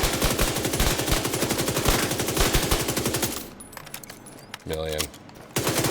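Rapid SMG gunfire in a shooter video game, a loud burst of fast repeated shots for about three seconds, then quieter game sounds with a brief chime and someone speaking briefly.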